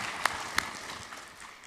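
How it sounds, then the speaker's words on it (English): Applause from the audience at a plenary session on special and inclusive education: a fairly faint, dense patter of clapping, with two sharper claps standing out near the start. "Big round of applause for this."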